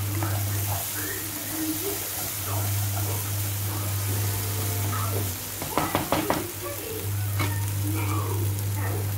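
Spice masala with garam masala fries in oil for a rajma curry, giving a continuous sizzle over a low hum, with a burst of spoon scraping and stirring knocks near the end.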